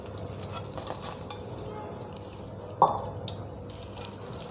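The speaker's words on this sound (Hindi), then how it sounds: "हमें सेब को ज़्यादा नहीं तलना है, थोड़ा शैलो फ्राई करना है," Apple pieces shallow fry in oil with a soft, continuous sizzle, a few light utensil scrapes, and one sharper clink near the middle.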